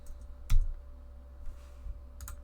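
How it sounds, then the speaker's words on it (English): A few sparse key clicks on a computer keyboard, faint and close, with one sharper tap early and a quick pair near the end over a quiet hum. "I'm going to type in"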